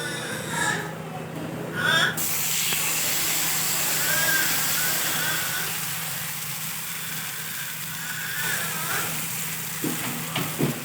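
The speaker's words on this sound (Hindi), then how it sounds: "ऑयल जब गर्म हो जाए तो इसके अंदर हम वो मिक्सचर डालेंगे पराठे वाला।" Onion paratha mixture sizzling in hot oil on a pan, a steady broadband fry hiss running throughout with a few brief clatters of utensils.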